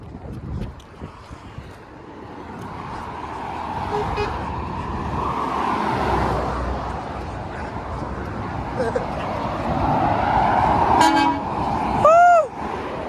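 Truck horn tones on a UK roadside, a short bright multi-note blast near the end over traffic rumble, with voices and a barking dog earlier.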